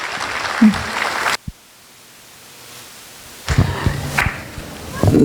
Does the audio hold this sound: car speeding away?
no